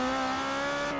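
Car tires squealing during a spin-out in Forza Horizon 3, a sustained high tonal screech over engine drone, loud and close throughout the short moment.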